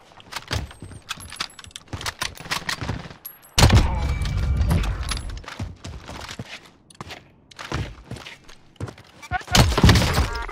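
Video game gunfire rings out as rapid shots and thumps in a hectic multiplayer match, loud and repeated in bursts, mixed with clatter and footsteps under players' voices.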